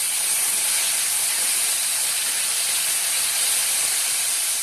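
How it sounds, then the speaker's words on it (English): A steady, loud sizzling hiss of vegetables and tomatoes frying over relatively high heat in a hot pan, continuous and unbroken throughout with no talking. "Fry this for a few seconds along with the tomatoes."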